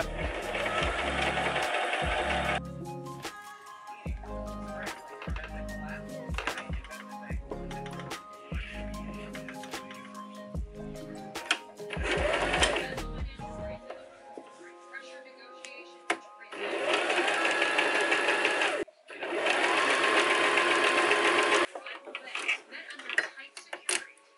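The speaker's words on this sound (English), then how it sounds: "now let's start sewing" A sewing machine stitches fabric for a pair of pants in several bursts of rapid mechanical whirring, separated by clattering handling noises and pauses, with a person speaking at times between runs.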